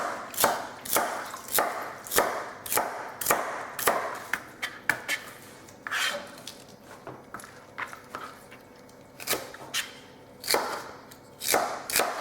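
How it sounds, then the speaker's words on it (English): Knife chopping Swiss chard stems into bite-sized pieces on a cutting board, a string of close, sharp, irregular chops, with short pauses between bursts. "now we're going to cut up the stems into little bite-sized pieces"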